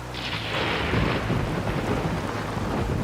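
Heavy thunder rolls through a rainy night, a loud deep rumble that starts abruptly and sustains over steady dense rainfall, with no voices heard.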